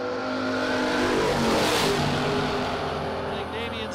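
A 1975 Chevy drag car launches down the strip at a drag race, its engine roaring loud and close and swelling to a peak before easing slightly, with crowd or announcer chatter beneath.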